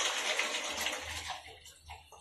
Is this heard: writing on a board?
no